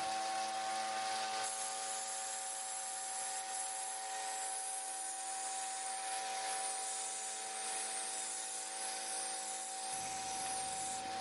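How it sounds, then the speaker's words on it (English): A 1-inch belt sander runs steadily with a constant high whine, grinding a bevel into the frog rails of a model train track, its tone shifting slightly near the end as the load changes. "I'll use the 1-inch belt sander to do the beveling."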